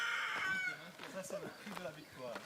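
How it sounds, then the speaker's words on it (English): A rooster's crow rings out briefly at the start on a farm, moderately loud, followed by softer clucking and low murmuring voices. "There's a rooster that's stopping us from going further."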